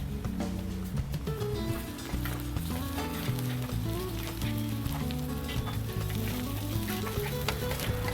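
Sliced onions fry in oil with turmeric and ginger garlic paste for a jalla fish curry, a constant close sizzle with occasional stirring clicks, running under steady background music.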